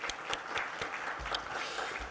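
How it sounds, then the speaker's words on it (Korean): A church congregation applauds a wind ensemble of woodwinds and brass after a hymn at a Saturday worship service, a steady, moderate wash of clapping with no voices over it. "감사와 격려의 박수 주시기 바랍니다."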